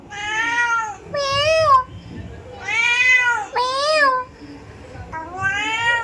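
A domestic cat meows loudly and close by, five drawn-out, wavering calls spaced about a second apart over quiet background noise.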